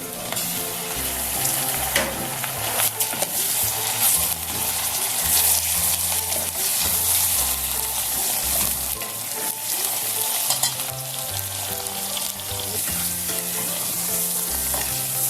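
About 400 grams of chicken frying in a pan with ginger-garlic paste for chicken kachnar, a loud continuous sizzle with steady stirring and spoon scrapes, close up, no voices.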